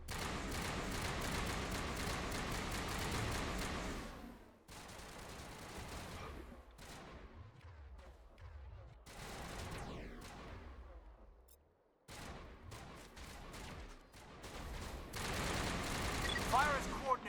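Mass Effect Legendary Edition battle gunfire, bursts of rapid shots and booms in clustered volleys broken by short quiet gaps, with a voice speaking at moments among the firing.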